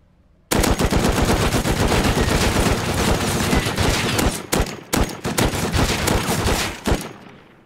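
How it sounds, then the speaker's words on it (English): Light machine gun in the video game Rust fires a long, loud, sustained automatic burst with a few brief pauses, then resumes rapid fire before stopping. "LMG is actually terrible without a sight on it."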